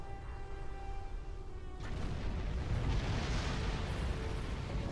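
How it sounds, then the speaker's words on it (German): A space-battle explosion in Star Trek Online erupts as a deep, roaring boom. It follows a thin tonal hum and swells into a loud, rumbling burst that lingers without voices. "Da hat uns die Explosion dahin gerafft."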